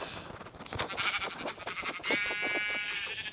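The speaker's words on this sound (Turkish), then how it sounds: "Bir tane daha koyun var şurada." Sheep bleating in the Minecraft video game, a few repeated bleats close by over steady game background sound, with no talk.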